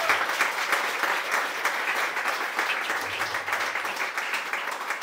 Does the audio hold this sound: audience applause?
yes